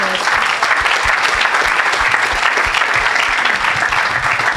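A church congregation bursts into sustained applause, steady dense clapping that fills the space at a loud, even level throughout.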